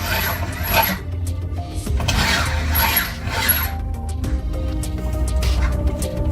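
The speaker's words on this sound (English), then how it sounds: "This drill's pretty tough." A tough power drill runs continuously, driving at an angle near electrical wiring, giving a steady grinding mechanical whir with rasping, ratcheting texture and small surges in load.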